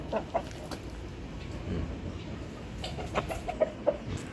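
Several chickens and roosters give scattered clucks and short calls at moderate distance, with faint human sounds in the background.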